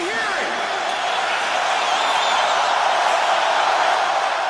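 A huge football crowd of over 100,000 fans at a Penn State Stadium whiteout game roars in a dense, continuous wash of screaming that stays loud and steady throughout.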